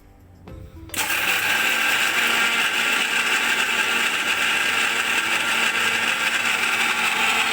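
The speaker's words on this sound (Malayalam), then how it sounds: "ഇതെല്ലാം കൂടെ മിക്സിയുടെ ജാറിലിട്ട് ഒന്ന് പൊടിച്ചെടുക്കണം" A kitchen mixer grinder jar pulverizes Oreo biscuits with sugar, milk, vanilla essence and Eno, starting abruptly after a brief handling noise and running as a loud, steady whirring grind.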